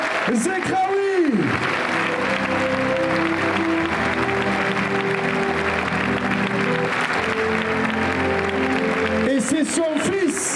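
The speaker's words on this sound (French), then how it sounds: "je voudrais que les applaudissements résonnent dans cet amphithéâtre pour le raseteur Youssef Zekraoui" Sustained, dense crowd applause fills the Arles arena at the Cocarde d'or course camarguaise, loud and steady throughout, with music playing and a voice speaking over it.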